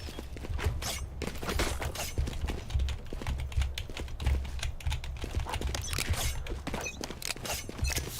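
Rapid, close clatter of a computer keyboard during video game play, dense irregular key clicks running continuously with no talk.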